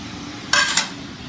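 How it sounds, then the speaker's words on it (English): Small stainless steel plates are set into nesting camping cookware, giving a short bright metallic scrape and clatter that lasts about a quarter second over quiet background, with no talking. "stainless steel plates, which I'll put right inside of there"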